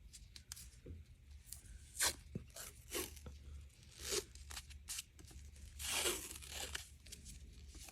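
Strips of 1.5 inch white athletic tape torn from the roll for taping a hand, wrist and thumb, several quick rips and crinkles spaced irregularly, close but quiet, with no voices.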